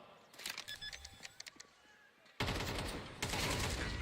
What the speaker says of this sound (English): But Apex lands the shot, now wrapping